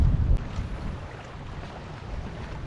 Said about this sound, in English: Quite windy and choppy out here today.